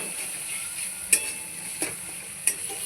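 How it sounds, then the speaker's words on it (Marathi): Egg curry masala stirred in a pan: a spatula knocks against the metal three times over a soft, steady sizzle, with no talking. "सर्व एक मिश्रण करून घेऊया आपण एकदम असं करून घ्यायचं"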